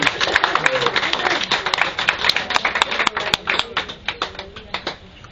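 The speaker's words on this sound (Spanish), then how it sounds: "¿Por qué no le brindan un aplauso fuerte a Jesús?" A church congregation applauding for Jesus: loud, brisk crowd clapping with sharp individual claps standing out, mixed with voices speaking, thinning toward the end.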